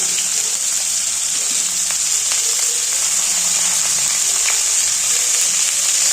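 Salt and turmeric sizzle steadily in hot oil for a Bengali aloo dum, a dense continuous frying hiss with faint scattered pops, close and even throughout, with no voices.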